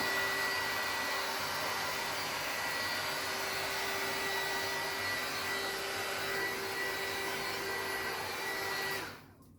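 A heat tool blowing hot air onto a corner of material to soften it for folding gives a steady, loud whooshing fan roar with a faint whine that holds for about nine seconds before cutting off abruptly.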